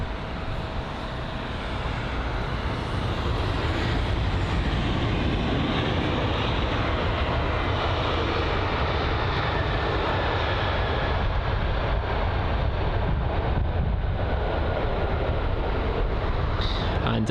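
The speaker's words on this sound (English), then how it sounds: "this looks like an A321 Neo just about to touch down here on runway 27" An Airbus A321neo touching down on runway 27 at London Heathrow, its engines a loud, sustained roar that swells in the first seconds and then holds steady and broad throughout, with no voices.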